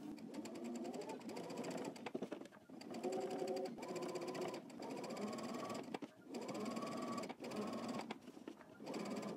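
A domestic sewing machine stitches a seam on a garment back yoke in several close, steady runs with brief pauses between, the motor whirring loudly and alone.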